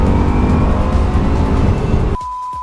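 A Bugatti Chiron on a passenger lap of the Nürburgring roars loud and close from inside the cabin, a dense sustained engine drone that cuts off abruptly into a quieter, thinner tone near the end.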